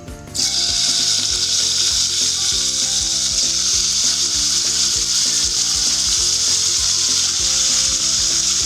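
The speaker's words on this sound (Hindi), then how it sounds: "एक खाने का चम्मच मैंने घी डाला है और इसको मैं हल्का सा फ्राई कर लेती हूँ।" Meat fries in ghee in a pan with a loud, dense, unbroken hiss of sizzling. Quick rhythmic scraping ticks from stirring run underneath throughout, and no voices are heard.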